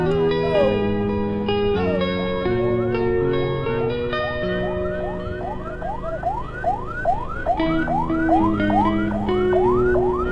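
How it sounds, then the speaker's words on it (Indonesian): Ambulance siren wailing loud and close on a road under repair after a landslide, sweeping up and down in rapid repeated cycles over constant traffic and engine noise. "Ada ambulan masuk."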